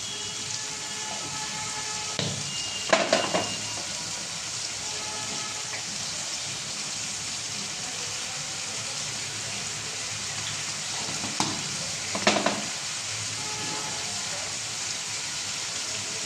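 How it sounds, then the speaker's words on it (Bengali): Ginger garlic paste sizzles in a pan with a constant crackling hiss throughout, broken by a couple of brief clattering knocks. "আমার এখানে আদা রসুন বাটা ছিল, আমি দিয়ে দিলাম ওটাকে"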